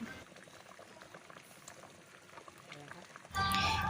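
A pot of papaya sour curry with shrimp bubbles at a gentle boil, with a soft voice over it, then swells into a louder, fuller bubbling and sloshing near the end.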